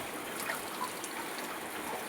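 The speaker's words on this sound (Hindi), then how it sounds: "बाप रे, अंदर भी आ गया पानी।" Rainwater trickles into a house near a wall light switch during a downpour, making a steady, faint, hissing wash of water with no clear individual drops.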